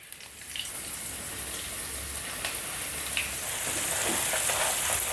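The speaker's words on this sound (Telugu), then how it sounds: "స్టవ్ ఆఫ్ చేసి మనం గ్రైండ్ చేసుకున్న వెల్లుల్లి కారాన్ని వేసుకుందాం" Ground garlic-chili powder dropped into a hot tempering of curry leaves with the stove off, giving a steady, close oil sizzle that swells slightly over several seconds, with no talking.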